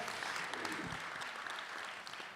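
Steady audience applause fills a hall at an awards evening, a dense, continuous wash of clapping from a crowd with no voices standing out.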